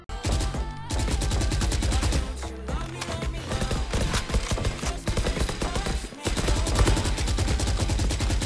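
Rapid, continuous gunfire from a Valorant match fills nearly the whole stretch, loud and dense, with bursts overlapping and only brief gaps before the shooting resumes.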